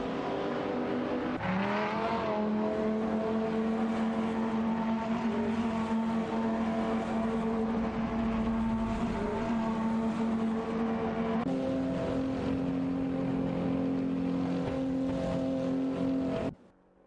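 Race cars in a video game AI race, a continuous loud engine whine with steady pitch and a shift partway through, several cars droning together without pause until an abrupt cut at the end.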